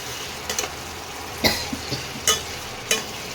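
Dal and pointed gourd being stir-fried with a splash of lemon juice in a pan, giving a low sizzle with a handful of soft scraping stirs at irregular intervals, fairly close and quiet with no talking.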